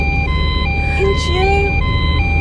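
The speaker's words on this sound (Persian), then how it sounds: "نه این آمبولانسه" An ambulance siren wails in a steady two-tone pattern that shifts pitch partway through, heard from inside a car over a constant low road rumble, with people talking over it.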